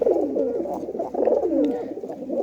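A pigeon coos in a steady, rounded run of repeated calls, close and fairly loud, with no talking over it.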